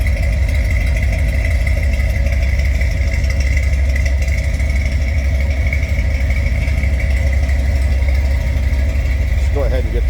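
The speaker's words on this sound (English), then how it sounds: "Listen to that. Again, 327, 300 horse, V8." A 1968 Chevrolet Corvette convertible's original 327 V8, 300 horsepower, idles steadily and loud up close, a deep even rumble with a faint blip of revving near the end.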